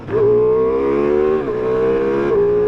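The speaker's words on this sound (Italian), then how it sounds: "lo sentite urlare quando aprite tutto, a quel punto il 4 cilindri urla" A four-cylinder motorcycle engine revs hard and high, a steady screaming whine held for a couple of seconds with brief dips between pulls, loud and close.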